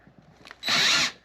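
A power drill whirs briefly and loudly as it cuts teak wood plugs for a deck on a 1969 aluminum yacht, the single short burst rising out of soft background shuffling.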